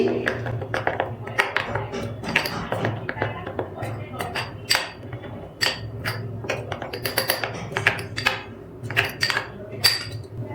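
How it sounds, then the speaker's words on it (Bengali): A spoon clinks and scrapes against a bowl while mixing ground fennel and spices into sour yogurt, giving repeated irregular taps over a steady low kitchen hum. "সব মশলা দইয়ের মধ্যে ভালো করে মিশিয়ে নিচ্ছি।"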